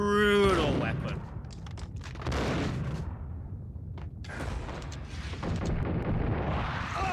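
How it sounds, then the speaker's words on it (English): Colt Commando gunfire in the video game Max Payne, with bursts of automatic shots and booming impacts in irregular clusters, loud and echoing, set against game music and effects. "That is the power of the Colt Commando. It is a brutal weapon."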